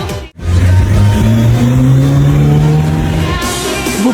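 A car fitted with an NDK racing muffler and front pipe exhaust revs hard and loud close by, holding a steady, rising drone after a brief cut near the start.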